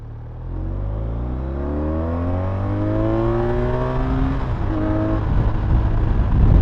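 A 2015 BMW R1200RT motorcycle accelerating hard, with its engine note climbing steadily through the gears and a brief shift near the end, loud and close with steady wind noise and no talking.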